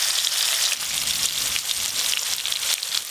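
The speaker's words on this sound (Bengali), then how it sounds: "তেল তো গরম হয়ে গেল, ফোড়নে দেবো গোটা জিরে, কাঁচা লঙ্কা কুচি, আর দেবো টমেটো কুচি" Whole cumin, chopped green chili and chopped tomato hit hot oil in a pan, producing a loud, steady, crackling sizzle that continues without break, close up and with no voices.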